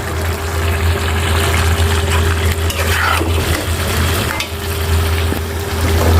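Pieces of rui fish belly drop into a simmering mixed vegetable curry in a pan, giving a constant loud bubbling sizzle with a low steady hum beneath and faint stirring scrapes, nearby and without speech.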